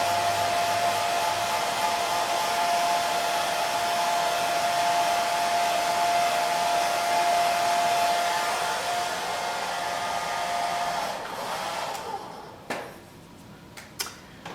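A hair dryer dries paint on a wood-slice craft pumpkin, blowing with a steady close whirring hum for about eleven seconds before switching off, followed by a few light handling clicks.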